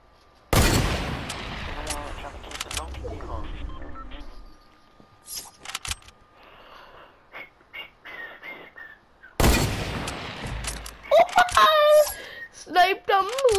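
Sniper rifle fire in a video game: two loud, sharp shots spaced several seconds apart, each followed by a short decay, with smaller clicks between and a young voice talking throughout.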